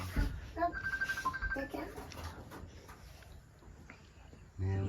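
A telephone rings in a home among people speaking Thai, its repeated electronic ring tones coming in short bursts under ongoing conversation, moderately loud and close.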